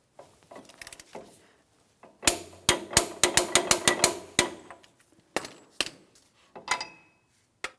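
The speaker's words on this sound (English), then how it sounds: "I'm going to torque this to 188 foot-pounds" Rapid metallic clicks and knocks from a torque wrench tightening the axle nut on a 2007-2014 GMC Sierra 2500 HD, first sparse, then a fast rhythmic burst of about a dozen sharp clicks, then a few spaced strikes.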